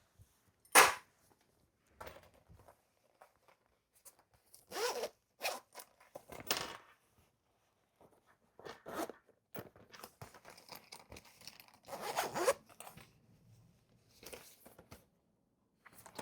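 A zip-around travel wallet is zipped closed in several short, sharp zipper pulls separated by pauses. The sounds are close and crisp against a quiet background.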